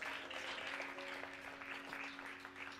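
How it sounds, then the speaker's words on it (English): A church congregation applauds the pastor's wife with steady, moderately distant clapping over sustained keyboard tones. "y'all clap for her"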